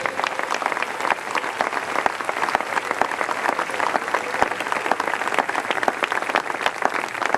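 A church congregation applauds for the Lord, with dense, steady clapping from many hands sustained throughout at fairly close range, with no break.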